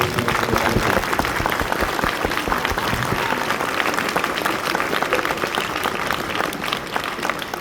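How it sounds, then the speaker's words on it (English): Loud, dense applause from a school band concert audience for support staff, continuous clapping from many hands that holds steady for several seconds without talk. "can we just give all those people a round of applause"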